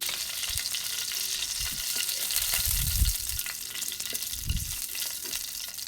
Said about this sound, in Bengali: দেখো গোস্তগুলো কিন্তু আমি লাল লাল করে ভেজে নিচ্ছি।